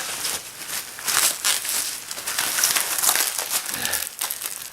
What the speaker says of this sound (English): Matt, it's well wrapped.